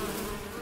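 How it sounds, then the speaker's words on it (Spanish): A swarm of bees buzzes as a continuous, even drone that holds steady for the short moment, full and close-sounding rather than faint, with no voices present. "A lo lejos se oye un zumbido."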